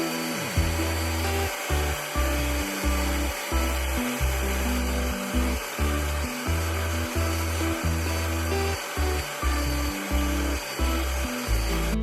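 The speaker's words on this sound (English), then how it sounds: "For the process of cleaning the carpet, I'm using LA's Totally Awesome Diluted 10-to-1 and the Bissell Pro extractor to get the job done." A Bissell Pro extractor cleans car carpet in a Cadillac Escalade, with a constant loud suction whine and regular rhythmic pulses as the wand is pushed and pulled, close-up with no talking.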